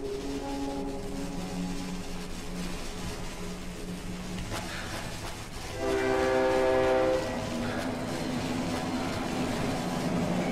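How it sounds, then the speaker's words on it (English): A train in the video game Cry of Fear rumbles past steadily while its horn sounds in a long sustained chord, swelling loudest midway, then fading back into the rolling rail noise. "Why are these trains still running?"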